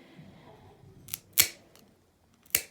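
Clippers trimming a dog's dew claw nail give a few sharp, crisp snips spaced about a second apart, close and fairly distinct over a quiet background.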